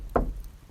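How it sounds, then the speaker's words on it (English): A single knock on a door, one dull thud close by in a quiet room with nothing else after it. "Knock knock."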